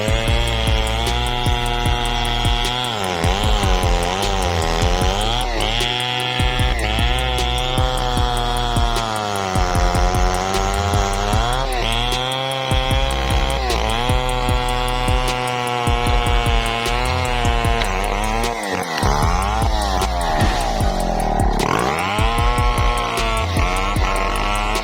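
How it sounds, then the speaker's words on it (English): A chainsaw cuts a tree during logging, its engine droning loudly and continuously with rising and falling pitch as the throttle and load change while the chain bites through wood. "Operating a chainsaw at this level is no small task."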